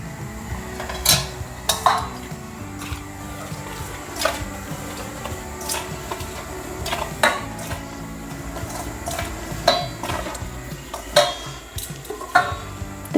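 A spoon stirs a gram flour and rice flour batter with hot oil in a bowl, making repeated close scrapes and sharp clinks against the sides in an uneven rhythm, with no talking.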